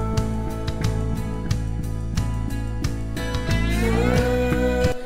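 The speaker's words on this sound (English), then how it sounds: "So yeah, that's just that slide guitar." Slide guitar run through a Deluxe Memory Man set to a very long delay, sustained gliding notes with repeats trailing and stacking up, loud and alone with no voices.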